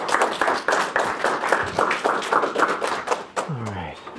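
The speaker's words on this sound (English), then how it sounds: "So if you guys could give him a round of applause" An audience at a business presentation applauds a presenter with sharp, fairly close claps in a steady rhythm that taper off near the end as a voice briefly comes in.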